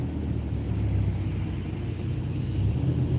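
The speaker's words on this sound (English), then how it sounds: "the guy in the F-150 just hit the gas with the Flowmasters" Ford F-150 pickup with Flowmaster exhaust accelerating in slow rush-hour traffic, a steady deep engine rumble swelling slightly, heard from a nearby car with continuous low drone throughout.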